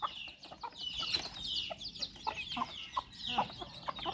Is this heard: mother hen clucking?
yes